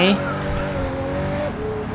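A 2017 Pagani Huayra BC's engine drones at steady revs in the Racing Master game, its pitch holding then dipping slightly, with a brief tire squeal at the start and a voice talking over it.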